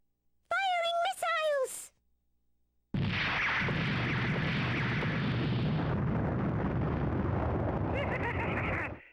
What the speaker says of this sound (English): Target the Colossus! Launch missiles!